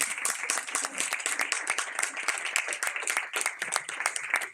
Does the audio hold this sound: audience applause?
yes